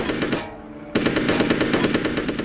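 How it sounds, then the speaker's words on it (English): Rapid machine gun fire rattles in dense, loud bursts at close range, pausing briefly before resuming in a continuous stream of shots. "the machine gun teams would fire at the section in between"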